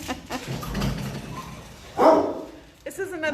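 At an animal shelter, a dog gives a single short loud bark up close amid kennel noise and people talking, with rustling and clatter before and after.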